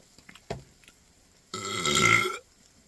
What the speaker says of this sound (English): Let's see if I can chug a Coke without burping.